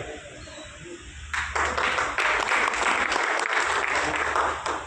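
An audience at a portal inauguration breaks into loud applause after a quiet stretch of room tone, the clapping bursting in suddenly and holding strong to the end, with no talking over it.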